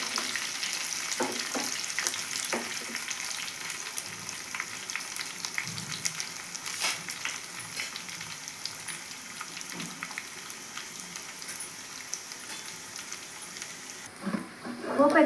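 Spices for a dal tempering sizzle and crackle in hot oil, a steady close frying hiss with scattered pops, and a louder burst right at the end.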